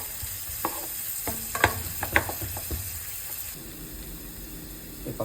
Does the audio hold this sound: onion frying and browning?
yes